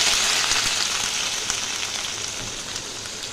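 Ground spice paste with cumin and chilli frying in hot oil, giving a steady, close hiss and sizzle that fades slightly over a few seconds, with no talking.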